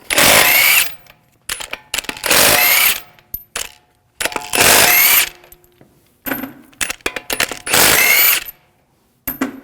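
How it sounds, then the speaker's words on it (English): An impact wrench with a 19mm socket spins lug bolts off the front wheel of a 2001–2009 Volvo S60, five loud whirring bursts separated by pauses filled with clinks of bolts and metal handling. "Now, I'll take the lug bolts out, use a 19mm socket."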